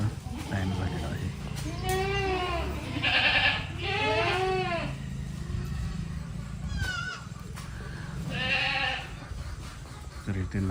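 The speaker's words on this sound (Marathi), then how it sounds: "त्यामुळे सर्व शेळ्या वैरण खायची वाट बघत आहेत." Goats in a shed bleat repeatedly at fodder time, several loud wavering calls close by over a low background murmur, and a person talks now and then.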